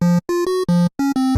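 Waldorf Quantum synthesizer square wave: a bright, buzzy tone rich in harmonics plays a quick sequence of six or so short notes stepping between pitches, separated by brief gaps, loud and close with no talking.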